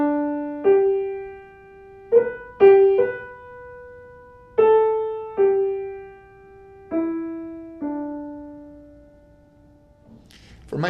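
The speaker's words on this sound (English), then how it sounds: "You probably know the tune Amazing Grace in its usual major key version." Amazing Grace hymn tune played in its usual major key on a piano-like instrument, single clear notes struck one at a time in a slow, gently decaying melody with no other sound.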